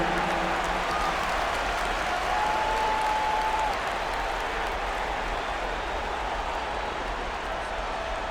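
Steady, distant crowd applause fills a virtual basketball arena in NBA 2K25 during a Bucks at Pacers playoff game, a dense wash of clapping holding at an even level throughout.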